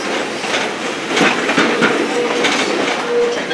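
Firestone train at Greenfield Village rolls along with rhythmic clickety-clack of wheels over rail joints, a steady rumble close by and faint brief squeals.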